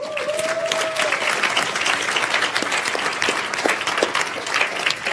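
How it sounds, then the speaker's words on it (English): Audience applause at a science festival's international final fills the whole stretch, dense and steady, with a brief whistle-like tone early on and no speech over it. "Great Kathy Sykes, round of applause"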